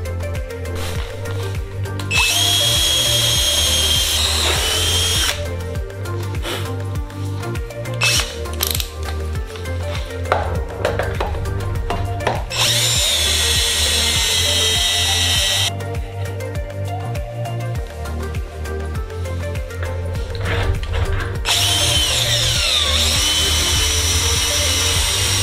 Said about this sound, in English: Just enough space that I can then use my reamer here to take it up to a full half inch.